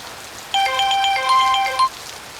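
A mobile phone rings with an incoming call, playing a short, bright melodic tone pattern of quick repeating notes for about a second and a half at moderate volume.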